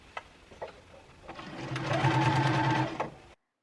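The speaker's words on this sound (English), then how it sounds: "stitch along all the way around to seal all the raw edges inside" A sewing machine stitching bias tape around the edges of a dress, starting with a few clicks and then running in a steady whirring burst for about two seconds before stopping, close and alone.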